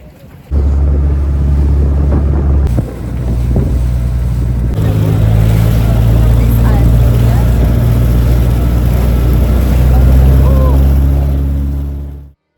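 A boat engine drones steadily with a low, constant hum, joined by wind buffeting the microphone and splashing water, while someone speaks briefly over it, as the boat heads out to open sea off Phu Quoc, Vietnam.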